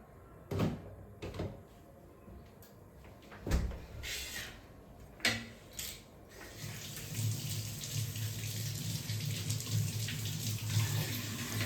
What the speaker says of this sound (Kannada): ಸೊ ಇಲ್ಲಿ ವೆಜಿಟೇಬಲ್ಸ್ನೆಲ್ಲ ಫಸ್ಟಿಗೆ ನಾನಿಲ್ಲಿ ವಾಶ್ ಮಾಡ್ಕೊಂಡಿದ್ದೀನಿ.